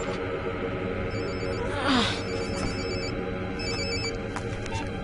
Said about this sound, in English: Jim, how come you answered Ulrich's phone